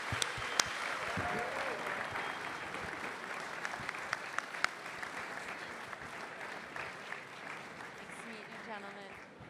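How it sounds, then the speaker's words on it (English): An audience in Tel Aviv gives a panel a round of applause, a steady field of clapping at moderate distance with a few sharper claps standing out, gradually thinning toward the end. "Let's give them a round of applause."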